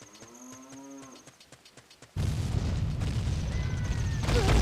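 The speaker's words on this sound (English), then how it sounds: "Why is there a cow sound?" A cow moos in Zelda: Ocarina of Time, heard as a short, clear call over the game's soft background music. A sudden loud burst of rumbling noise then swamps the sound.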